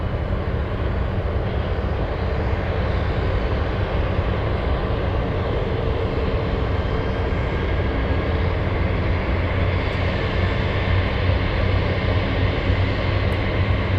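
Boeing 747 Dreamlifter cargo jet taxiing at Anchorage airport, a loud steady engine roar and whine with broadband rumble holding constant throughout.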